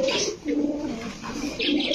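Pigeons in a shop holding around two hundred birds, including Hungarian Budapest pigeons, coo in low, rolling, overlapping calls, close and fairly loud, with no talk over them.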